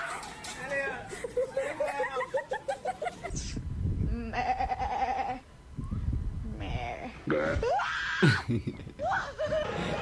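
A goat bleats several times in quick, wavering cries, loud and close, with people talking and laughing over it.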